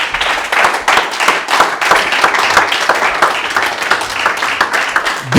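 A church congregation applauding together: steady, dense clapping from many hands, loud and continuous throughout, swelling slightly at the very end.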